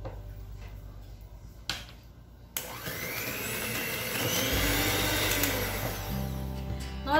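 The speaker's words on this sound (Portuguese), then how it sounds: "Vou usar minha batedeira aqui." An electric hand mixer beating sugar with margarine for a Brazil nut cake batter, starting after a couple of clicks and then whirring steadily and loudly close up, its pitch shifting as it works.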